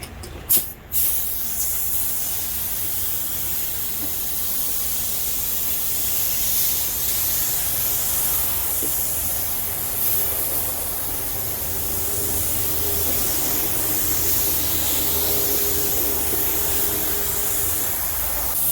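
Spray gun laying clear coat onto a drift car panel in cold conditions, a steady close broadband hiss that runs continuously after a few short bursts at the start, with no talking.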